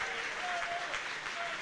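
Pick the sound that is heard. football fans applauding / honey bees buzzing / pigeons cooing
football fans applauding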